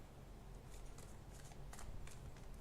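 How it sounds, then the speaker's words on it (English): Tarot cards being shuffled during a live tarot reading, soft papery riffles and flicks in several quick bursts, faint and close with no talking. "I'll shuffle these cards really good"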